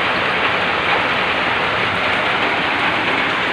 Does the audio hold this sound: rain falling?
yes